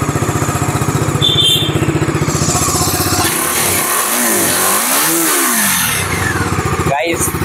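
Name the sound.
Bajaj Dominar 250 motorcycle engine revving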